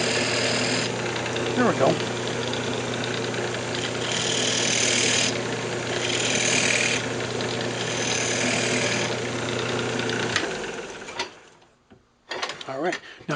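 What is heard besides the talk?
fingernail gouge cutting grooves in purpleheart pendant on lathe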